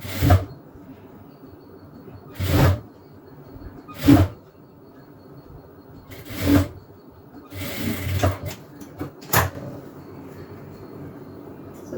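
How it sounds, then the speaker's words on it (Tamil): A sewing machine stitches cloth for an elastic half skirt in about six short, sharp bursts of rapid clatter, with quiet pauses between each run. "நான் அப்படியே தையல் போட்டுக்கலாம்."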